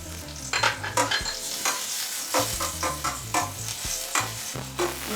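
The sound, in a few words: chopped ginger and garlic frying in a pan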